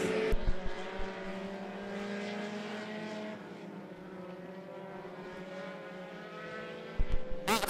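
Race cars in a front-wheel drive heat race at I-75 Raceway roar steadily through a lap, a dense layered engine drone with passing cars swelling louder near the start and end.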